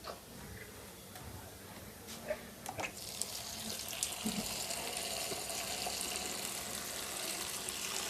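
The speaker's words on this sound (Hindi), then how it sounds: "नल खोले दो" Water starts running from an opened tap at home, a steady hiss that swells after a few faint clicks and handling knocks, then continues as a constant close stream with no talk.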